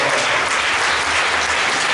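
Church congregation applauding during a worship service, a dense, steady clapping that holds at an even level throughout without voices over it.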